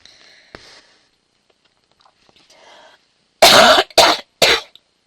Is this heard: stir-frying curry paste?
no